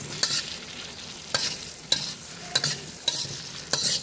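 Three large diced potatoes and tomatoes are stir-fried with spices in a pan for crab kosha: a loud steady sizzle broken by regular scraping strokes about every half second, with no voices.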